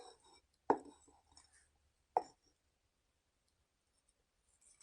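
A knife cuts into a cooked steak seared in a carbon steel pan and finished in the oven. Two distinct crisp cutting sounds come about a second and a half apart, close and fairly loud, with quiet pauses between them.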